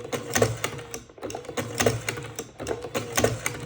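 A motorised OCB Micro Matic electric slim cigarette rolling machine runs in close, steady cycles of whirring and clicking that repeat about every second and a half, with no voices.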